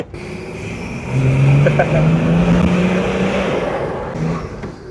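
A car with a BMW engine drives along, its engine a steady low drone that swells slightly, heard under conversation from the people inside.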